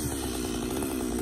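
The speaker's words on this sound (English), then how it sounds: "they're using his Husqvarna saws" Husqvarna chainsaw cutting into a cherry log, a brief burst of dense, rasping engine roar held steady at moderate distance.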